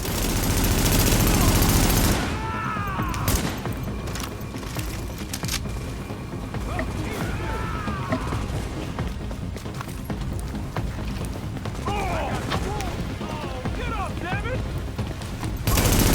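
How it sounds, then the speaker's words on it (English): Automatic gunfire and ammunition bursting in a backpack in the video game Tom Clancy's The Division, with dense rattling shots, a loud opening burst and sporadic pops under game ambience. "He has bullets, so ammunition in his backpack that starts just exploding on him."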